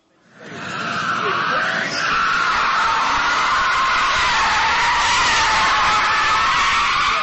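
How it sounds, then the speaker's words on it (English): Tires screech loudly and continuously as a car drifts at a King of Europe drift event at Luzhniki, Moscow, the shrill squeal rising within the first second and holding steady under an engine roar. "Screeching tires, smoking brakes, and the smell of burning rubber."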